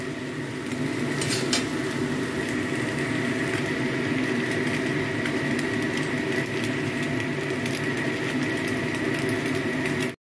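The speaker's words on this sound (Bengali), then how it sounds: "এবার ডিমগুলোকে আরও ঝুরঝুর করে ভেজে নেবো, যাতে প্রত্যেকটা পাস্তার সাথে ডিমগুলো মিশে যেতে পারে।" Scrambled eggs being fried and broken into small crumbly bits in a pan for homemade pasta, giving a steady, continuous sizzle with faint clinks of a utensil against the pan, with no voices.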